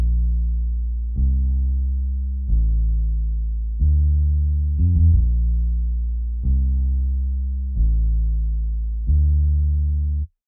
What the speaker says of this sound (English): This is the sub bass. The bass goes like this.